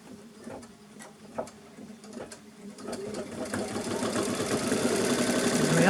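Sewing machine stitching fabric, starting with slow, separate needle clicks that speed up into a rapid, steady whirring run, close and growing louder, with no talking.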